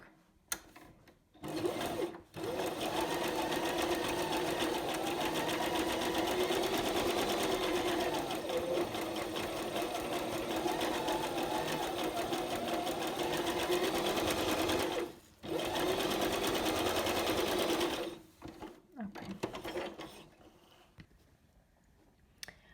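A sewing machine runs a zigzag stitch in long, steady bursts of rapid needle chatter, broken by two short pauses, close and fairly quiet.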